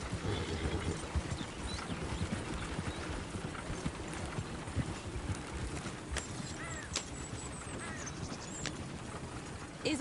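Horse hooves clip-clop steadily in Red Dead Redemption 2, a continuous trotting rhythm at moderate distance, with faint snorts and other game ambience around it.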